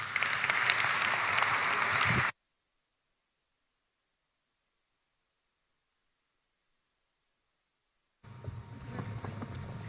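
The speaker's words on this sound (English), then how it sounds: "Please give our panel guests a very warm round of applause." An audience at a high-level panel conversation claps for the guests: a brief burst of applause cuts off into total silence, then clapping returns for the last couple of seconds.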